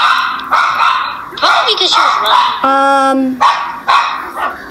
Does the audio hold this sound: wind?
no